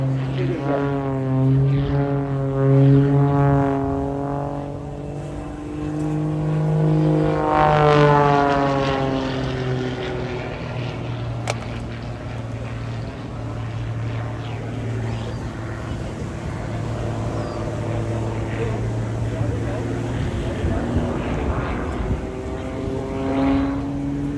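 Propeller aircraft engine at the Blackpool Airshow 2024 during slow hovering manoeuvres, a steady droning tone that rises and falls in pitch as the plane passes, continuous and fairly loud throughout.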